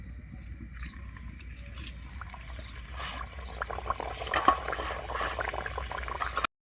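Steady crackling and bubbling of green pea kachoris deep frying in hot oil, continuous and fairly close, growing slightly busier toward the end, with no talking.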